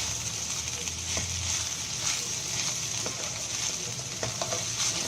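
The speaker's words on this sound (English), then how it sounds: "Just keep stirring. It's like a stir fry." A vegetarian Lent dish sizzles steadily as it is stir-fried uncovered with pepper powder, a continuous close hiss with occasional scraping and stirring knocks.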